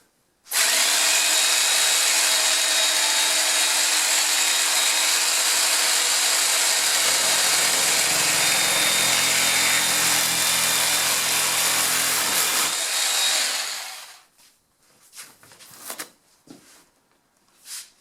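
A power tool cuts a trailer side door panel in one loud, continuous, close stretch of buzzing and rasping, then stops, leaving a few short knocks and rattles.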